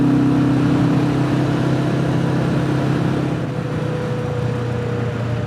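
Royal Enfield Classic 350 motorcycle cruising at car speed on a Scottish road, a steady close engine drone with wind rush that eases slightly partway through.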